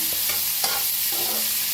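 A roasting spice mixture of green chili, garlic, coconut, sesame, ginger and tomato crackles in a pan, with stirring scrapes breaking through a steady, close sizzle.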